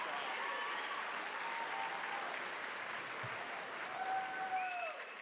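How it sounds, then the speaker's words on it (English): Audience at a Dancing with the Stars–style charity event applauds steadily, a faint, distant wash of clapping and crowd noise with a few whistles over it. "One more round of applause for"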